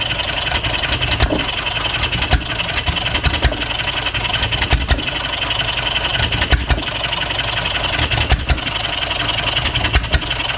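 A small hit and miss farm engine runs steadily nearby, a continuous mechanical chugging with periodic louder firing beats standing out irregularly above a noisy background, with no talk.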